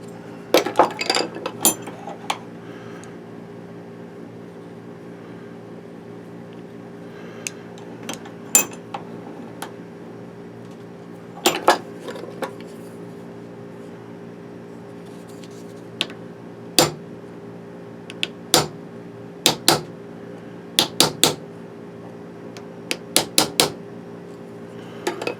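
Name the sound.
whacking a lens thread repair tool, tapping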